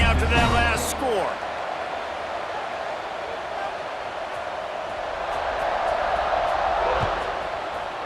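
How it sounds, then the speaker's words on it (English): Stadium crowd roaring and buzzing after a score in College Football 26, a dense steady wash of many voices that holds loud throughout, with a brief louder burst near the start. "this crowd is buzzing after that last score"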